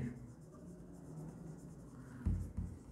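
A pen writes a journal entry by hand on paper in a quiet room, with faint scratching strokes and a couple of louder taps near the end.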